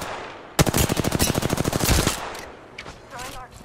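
Rapid automatic gunfire in the battle royale game Apex Legends, a loud, close burst of about twenty evenly spaced shots lasting over a second, followed by fainter scattered shots and game sounds.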